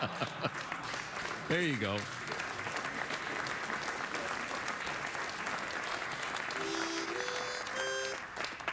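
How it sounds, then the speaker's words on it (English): A late-night talk show studio audience claps steadily and loudly throughout, with a brief vocal whoop early on and people speaking over the applause. "this audience thinks by clapping like that, they're going to force me into a commercial break"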